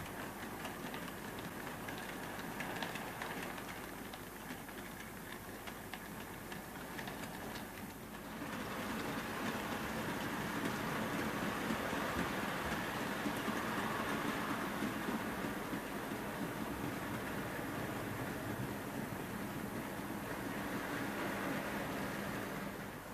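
An OO gauge model BR Standard Class 9F steam locomotive hauling banana vans runs steadily along its track with a soft continuous rolling rumble and faint clicking, close and fairly quiet throughout.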